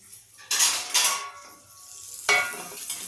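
Metal spoon scraping and tapping against a pan while chutney is scooped onto a plate: a few distinct clinks and scrapes with short pauses between them, close and clear.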